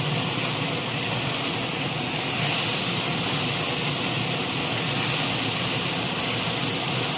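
Okra, stuffed with spice masala, frying in hot oil in a pan over a medium flame, giving a loud, steady, dense sizzle and crackle that runs unbroken throughout.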